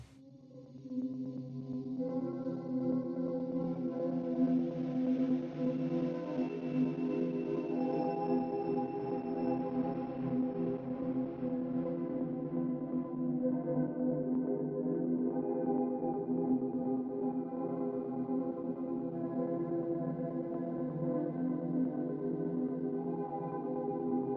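A processed lofi house synth melody run through delay and a convolver reverb plays alone, soft and washy, with smeared sustained tones drifting over a steady low bed.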